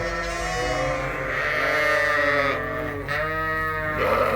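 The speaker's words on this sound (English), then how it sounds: "Where'd you find that sheep?" A sheep or lamb bleats in a pen, a loud, close, wavering cry that runs for several seconds with a brief dip partway through, heard alone without talk.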